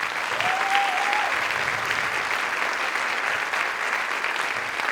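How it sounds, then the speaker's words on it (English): Sustained applause from a concert audience after a Purdue jazz band performance, a dense steady roar of clapping filling the hall at even loudness for the whole stretch, with a brief whistle or cheer early on. "Can you please give them a big round of applause?"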